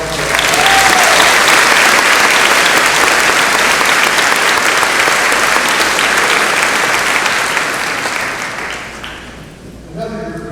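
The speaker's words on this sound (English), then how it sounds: "Let's have a round of applause." Loud, dense applause from a large graduation ceremony audience for the Liberty High School class, sustained for several seconds before fading out near the end.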